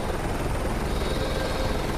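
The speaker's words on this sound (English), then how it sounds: "Get on that chopper and get out of there." A helicopter in Call of Duty: Modern Warfare 3, on the Arctic Recon Special Ops mission, gives a steady, dense rotor roar that holds at even loudness throughout, with no talk over it.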